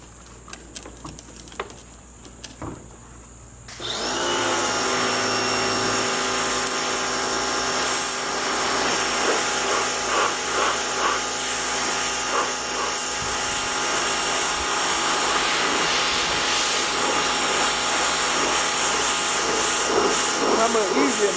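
A Harbor Freight Portland pressure washer, the $89 model, starts at about four seconds into a loud, steady spray roar with engine-like drone that runs on continuously; a few brief sounds come before it starts.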